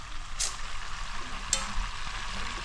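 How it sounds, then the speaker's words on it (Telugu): Chicken frying on its second side in a pan for an iffa chicken recipe, a steady close sizzle and crackle with two brief sharp spatter pops, no talk. "ఫ్రెండ్స్ ఇప్పుడు సెకండ్ సైడ్ కూడా ఫ్రై చేసుకుందాము"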